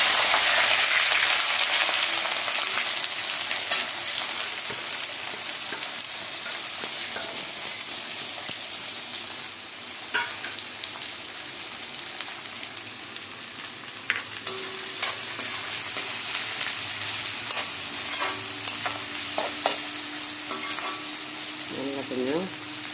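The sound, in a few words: onion and curry leaves sautéing in oil for aval upma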